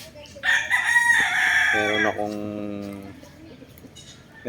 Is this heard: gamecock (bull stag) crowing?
yes